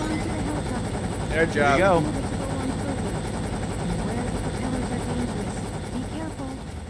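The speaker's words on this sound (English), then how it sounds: "Oh, you better catch that helicopter, dude." A helicopter in the Sonic Adventure video game drones steadily throughout, a continuous rotor and engine hum mixed with game sounds while someone talks briefly over it.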